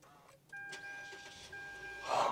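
A 2023 Mitsubishi XFORCE starts up with chimes and tones from the dash, then the engine catches with a low rising whoosh near the end.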